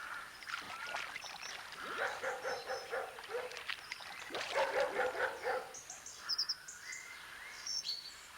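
A dog barks several times at moderate distance in an outdoor waterside setting, with birds calling and faint water sounds around it.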